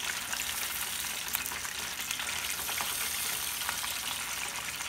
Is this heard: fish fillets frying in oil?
yes